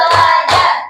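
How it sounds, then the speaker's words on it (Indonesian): A classroom of students claps hands twice in a counted rhythm, two sharp, loud, close bursts about half a second apart. "semuanya tepuk 1, tepuk 2, tepuk 3, tepuk 4, tepuk 5"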